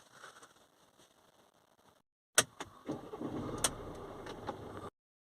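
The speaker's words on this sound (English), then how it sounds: "We're going to run a starter test." Mercedes-Benz C-Class with a high-resistance starter battery cranking during a starter test: quiet clicking, then an abrupt burst of starter whirring and churning for about two and a half seconds before cutting off sharply, with another click at the end.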